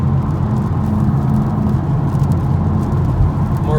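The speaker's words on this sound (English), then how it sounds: "as you can tell right away, there's less road noise, more comfortable" A 2018 Honda Civic Type R rolling on all-season tires gives a steady, loud road and engine rumble from inside the cabin, an even drone that fills the whole stretch with no voices.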